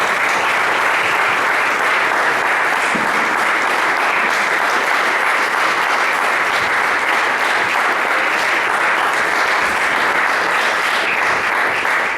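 A church congregation applauds its pastors in loud, continuous, dense clapping that holds steady for the whole stretch.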